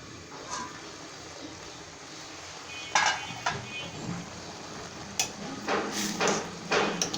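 Spinach gets stirred in a pan with soft, intermittent scrapes, followed by clattering knocks of metal as a lid goes on, all fairly faint over a steady low background hiss.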